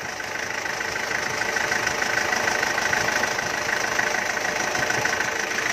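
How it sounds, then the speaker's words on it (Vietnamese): A 2005 Ford Everest diesel engine idles steadily and close by, a continuous even rumble with a light clattering knock running for the whole stretch and no talk over it. "Máy đang hoạt động rồi. Rất là êm ái luôn."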